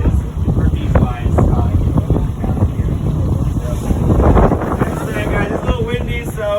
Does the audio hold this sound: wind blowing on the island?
yes